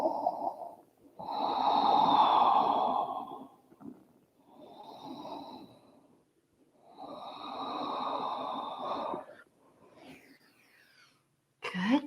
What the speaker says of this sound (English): Resting here for 3 slow, deep breaths.